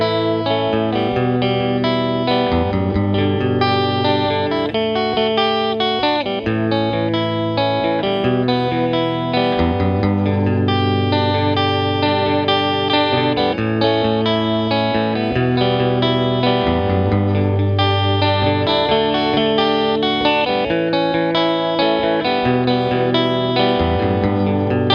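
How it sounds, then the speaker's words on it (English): Electric guitar playing a theme tune through effects, dense chords and melody with distortion, chorus and echo, steady and full throughout with no talk. "this is the theme tune with that guitar"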